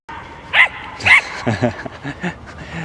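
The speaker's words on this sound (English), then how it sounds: "All you can hear is dogs squawking and seagulls barking." Dogs bark in a quick series of sharp, loud yaps, several in a row with short gaps, fairly close, at the seaside in St Leonards-on-Sea.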